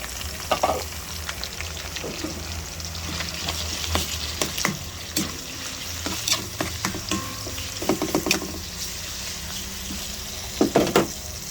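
Ground pork sizzles steadily in a frying pan, with repeated scraping and clattering stirs breaking through the constant hiss, up close.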